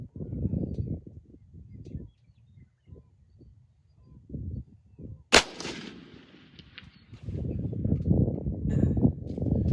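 Single sharp rifle shot from a Sig Cross firing Hornady Hunter factory ammunition outdoors, a loud crack with a trailing rumble, set between stretches of low wind buffeting and handling noise.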